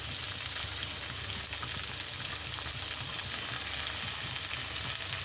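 Vegetables such as cauliflower and carrot fry for chira poha, a loud, dense, continuous sizzle with no let-up.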